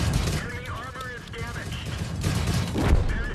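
Tank guns in the World of Tanks video game, including Pz.I C light tanks, fire in a dense rattle of shots and booms that runs under continuous talk.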